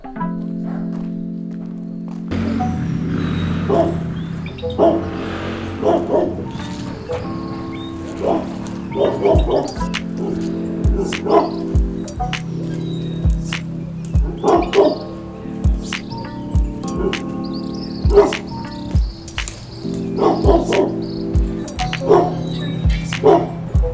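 Several dogs bark repeatedly outdoors, sharp woofs and yips scattered irregularly at mid distance, some barks overlapping, with a few whimpers and a steady hum of background noise throughout.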